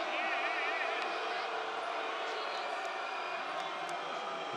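Wrestling crowd murmuring and reacting in a large arena during a 79 kg freestyle semifinal, a steady, fairly distant hubbub of many voices that swells slightly early on and holds for several seconds.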